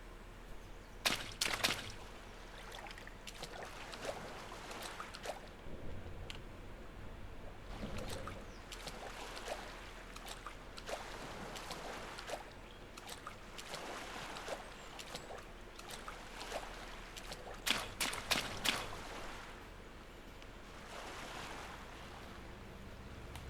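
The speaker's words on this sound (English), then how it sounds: "And we're just going to swim across here." Water sloshes and splashes as a character swims in the zombie survival game SurrounDead. The strokes come in irregular, soft bursts over a faint, steady background wash, with no talking.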